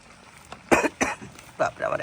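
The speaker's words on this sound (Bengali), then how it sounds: "বাপরে, আবার এখনই তো কাশি হয়ে গেল।" Coughing bursts in a kitchen where spicy chili-laden goat meat is cooking, several rough coughs close to the mic with a voice mixed in.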